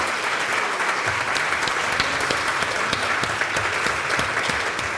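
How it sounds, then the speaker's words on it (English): Sustained audience applause, a dense even patter of many hands clapping throughout, fairly close and loud with no speech. "Let's hear another round of applause for them."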